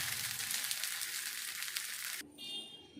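Sago tempering dosa fries in oil on a pan with a steady, close hiss of sizzling that cuts off abruptly near the end, leaving only a faint quieter hum.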